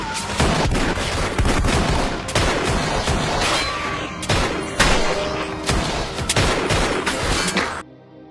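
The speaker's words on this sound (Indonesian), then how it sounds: "Baku tembak pun terjadi." Gunfire in a film shootout: rapid bursts of shots and crackling volleys fill the clip loudly and continuously, with sharp repeated reports over a dense action-scene backdrop, ending in a sudden cutoff.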